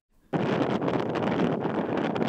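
Strong, cold wind at a beach in North Otago buffets the microphone in a loud, roaring rush that starts abruptly and keeps gusting, with no voices.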